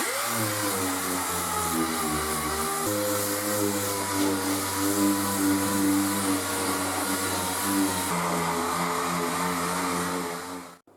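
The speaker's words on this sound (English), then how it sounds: "The filler's dry, I'm going to DA it off." A dual action sander works dry body filler on the bodywork of a custom Austin A40 pick up, a steady droning whir that holds for about ten seconds with slight pitch shifts before cutting off abruptly.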